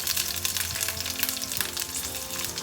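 Onions fry in a pan with green and red chilies, crackling and sizzling steadily and densely up close, a continuous bright frying hiss with no voices over it.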